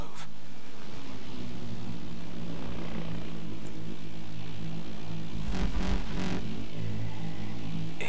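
A hovering drone in Call of Duty: Advanced Warfare gives a constant, loud, droning mechanical hum with a steady whine, unbroken throughout, with a brief surge of extra rumble partway through.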